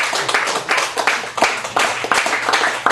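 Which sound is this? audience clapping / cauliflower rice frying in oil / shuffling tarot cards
audience clapping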